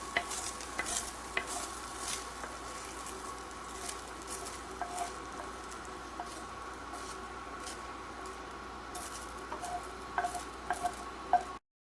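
Cooked crumbled sausage being scraped and spooned from a hot pan into a bowl. Soft scraping and stirring mix with a faint sizzle and light clinks of utensil on cookware, quiet and close, with no talking.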